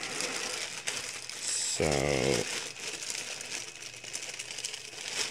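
Shrink wrap plastic sealing a MiniArt AEC Mk.II armoured car 1/35 model kit crinkles close up as it is cut and pulled open, with a brief louder crackling burst partway through and a voice speaking.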